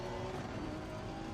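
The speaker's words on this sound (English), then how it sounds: "the rev limiter there wasn't ideal" A race car engine in an online sim racing game drones loudly and steadily at high revs, a continuous buzzing roar with no voices over it.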